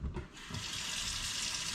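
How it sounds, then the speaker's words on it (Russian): Cold tap water runs steadily into a sink over a peeled onion being rinsed, a continuous close splashing hiss with no talk. "Нужно его сейчас почистить. И нужно его подержать под холодной водой."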